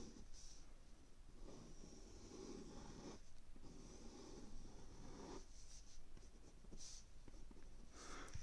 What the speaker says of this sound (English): I'm going to draw myself a Venn diagram